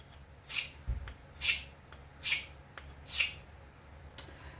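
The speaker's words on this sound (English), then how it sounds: "how we're going to start is we're actually going to dull this knife" A Spyderco Paramilitary 2 knife with an S110V steel blade is dulled by five rhythmic, evenly spaced scraping strokes against an abrasive surface, close and crisp with quiet gaps between, and no voices.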